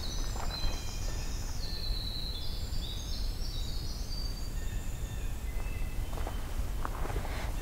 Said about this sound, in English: Here's the winter wren again.